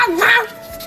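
A dog gives a single short, yelping bark, loud and close, lasting under a second.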